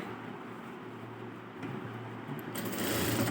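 A sewing machine hums steadily while stitching a small blouse, a low, fairly faint mechanical drone that grows slightly louder toward the end, with no speech.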